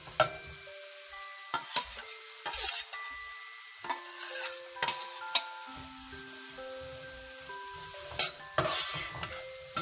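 Small square-cut chopped onions sauté in a pan with a soft sizzle, broken by repeated scraping stirs and a few sharper clinks of a utensil against the pan.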